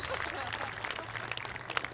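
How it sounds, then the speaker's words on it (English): Crowd applause at a world hoop dance championship, a dense patter of many hands clapping at moderate volume, with a brief whistle at the start and crowd noise around it. "Let's give him a big round of applause."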